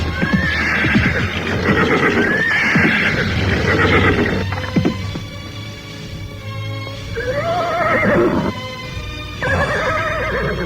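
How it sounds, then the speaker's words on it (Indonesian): A horse whinnies loudly several times in a radio drama scene, with hoof clip-clops as it pulls up suddenly, the rising and falling neighs close and clear with no talk over them. "Kuda itu berhenti dengan mendadak."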